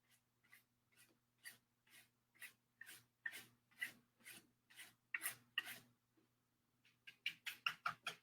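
A dry paintbrush scrapes back and forth over a painted wooden door hanger to distress it, giving steady rhythmic rasping strokes, close and fairly quiet, with a brief pause before a quicker burst of strokes.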